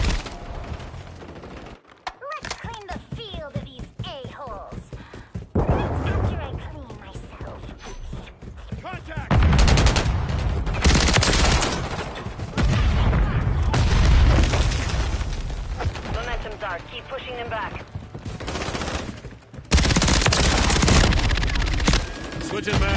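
Gunfire and explosions in a Tokyo multiplayer match of the video game Call of Duty: Modern Warfare III, with rapid bursts of automatic fire, booming blasts and clattering action coming in loud waves, and game voices talking over it.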